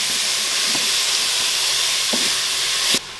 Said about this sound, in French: Je fais suer mes poireaux